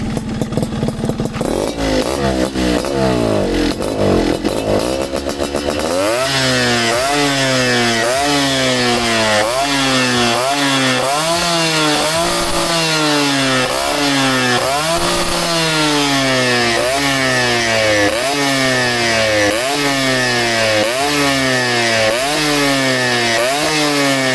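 A restored, modified Yamaha RX135 motorcycle engine revs repeatedly, its pitch rising and falling in quick rhythmic cycles, loud and close, with no talking.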